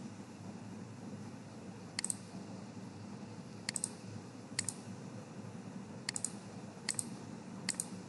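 A computer mouse clicks several times, each a faint, sharp tick, single or in quick pairs, spaced irregularly over a quiet room hum.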